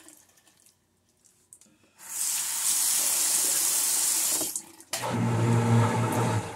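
A bathroom tap runs into a sink during tooth brushing, starting after a quiet moment, a steady loud gush of water, briefly interrupted, then resuming with a fuller splashing tone.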